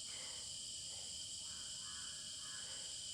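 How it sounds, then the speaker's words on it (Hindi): Crows cawing in a jungle at a wilderness campsite: a few faint, distant harsh calls scattered across the clip over a constant hiss of insect-like background noise. "कॉलिंग आ रही है पक्षियों की"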